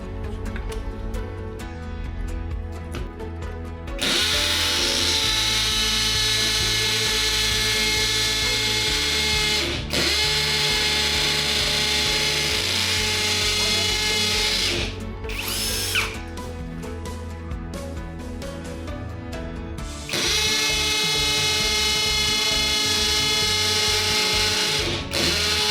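A hammer drill whines loudly and steadily in long bursts, with brief pauses between runs and a rattling hammering texture, no talking.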